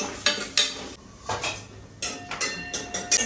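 Cashews frying in a pan, with scattered metallic clinks and scrapes of a utensil against the cookware over a soft sizzle, close and intermittent, with no talking.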